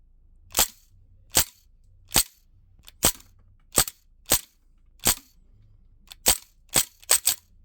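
A Crosman R1 4.5mm CO2 BB gun fires about a dozen sharp, close cracks, evenly spaced at first and then quicker at the end, each a short snap over a quiet background, with no talking.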